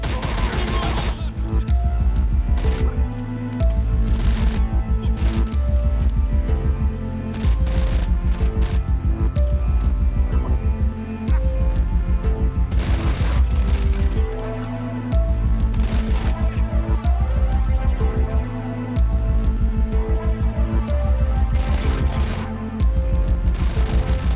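Rapid gunfire bursts from the video game Stalcraft repeat in rhythmic volleys across the whole stretch, loud and close, layered over a steady tonal music bed with brief pauses between strings of shots.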